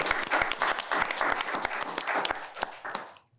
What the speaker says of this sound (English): Can we first give Ruth a round of applause?